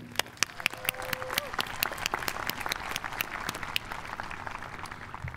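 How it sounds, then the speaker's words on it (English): A commencement crowd applauds the graduating class of 2017 at a university ceremony, dense sustained clapping with sharp close claps on top, a voice briefly audible early on. "So a round of applause for the class of"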